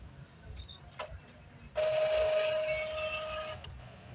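An Epson printer running its ink process after a red light error fix, giving a steady mechanical whir with a faint tone for a couple of seconds, framed by small clicks in a quiet room.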